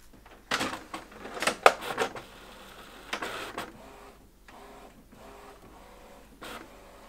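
Canon Pixma Pro-200 inkjet printer printing on paper, with quiet mechanical whirring and a series of sharp clacks and paper-feed bursts, irregular and close.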